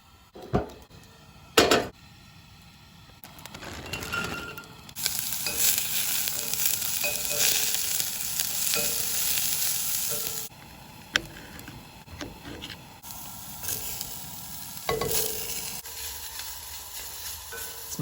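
Chili cheese dogs sizzling in a pot over a camp stove during cold-weather camping with a 4Runner, a steady close frying hiss punctuated by sharp clanks and scraping stirs.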